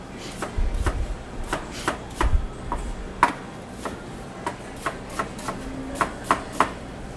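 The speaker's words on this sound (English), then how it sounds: "While we're getting all these vegetables cut up" A knife chops vegetables for a fresh pomodoro sauce, such as onions and tomatoes, on a board. The sharp, close taps come in an irregular series, with a low rumble of handling between cuts and no talking.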